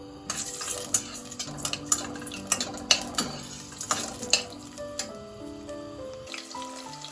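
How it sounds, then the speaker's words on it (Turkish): Onions sautéing in oil at the start of a lentil soup, with a steady light sizzle broken by repeated stirring scrapes and clinks of a utensil against the pot, no voices. "Yağımızı koyduk. Soğanlarımızı kavuruyoruz önce."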